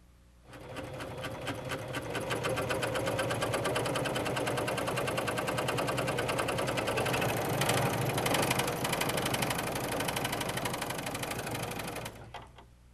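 A Husqvarna Viking Huskylock 936 serger runs through fabric in one continuous, rapid mechanical chatter, starting and stopping cleanly and staying steady and close for about eleven seconds.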